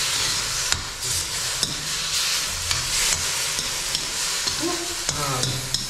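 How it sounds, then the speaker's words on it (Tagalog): Aromatics sauté in cooking oil with a bright, continuous sizzle, while a spoon scrapes and taps the pan at a steady pace close by. "Tapos doon natin siya igigisa yung mga pangrikado natin para mabango po."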